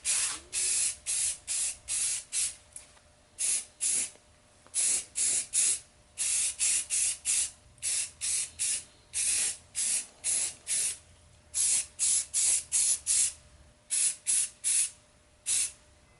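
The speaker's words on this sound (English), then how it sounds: "We're going to prime everything except for the body." Spray can priming parts of a custom Mandalorian jetpack build: a long run of short hissing bursts, roughly two each second, with brief pauses between them, close and loud, and nothing else audible.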